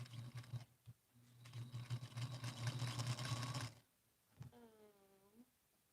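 A sewing machine stitches a quilt, its motor whirring steadily and close for about four seconds before stopping, followed by a short voice.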